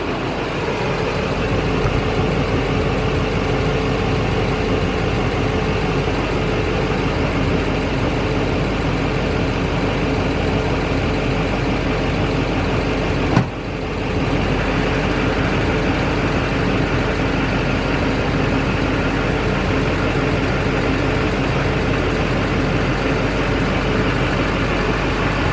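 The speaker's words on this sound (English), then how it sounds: "What this truck is going to do is it's going to crawl right up on these ramps." Truck engine in 4WD low range idling and crawling slowly up onto ramps, a steady loud low rumble with a brief dip midway, no talk.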